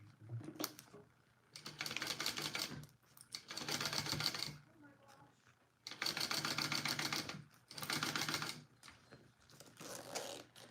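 A sewing machine runs in long bursts while basting a Sue Sue Sling bag, the rapid stitching loud and close with short pauses between runs and a voice speaking briefly in the gaps.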